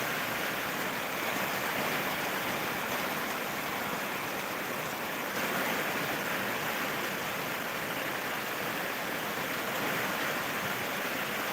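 Heavy monsoon rain falls outside a house in a village, a dense, even roar of downpour that stays loud and unbroken throughout with no voices.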